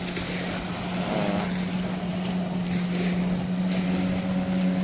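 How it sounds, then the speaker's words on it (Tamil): A motorboat runs along a beach shoreline at Nagercoil, a steady engine drone with wind noise holding throughout, fairly loud and constant as it approaches. "பாருங்க, 2 போட் வருது, கரையால வருது ஒரு போட் ஒன்று."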